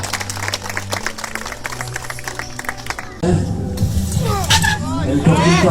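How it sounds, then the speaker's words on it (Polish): Applause for a trial motorcycle rider at the Polish championship: a crowd breaks into steady, loud clapping and cheering partway through, following a stretch of background murmur and a low engine hum. "Gorące brawa dla Michała Nowaka"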